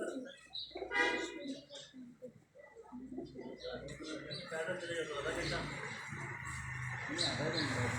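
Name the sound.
pigeons cooing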